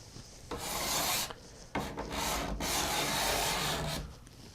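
Steel scraper rasping along a wooden guitar fretboard during pre-tapering, close and loud in repeated long strokes with brief pauses between them, no talking.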